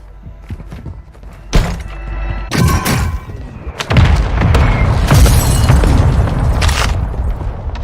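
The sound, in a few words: mortar strike explosions in Warzone 2 video game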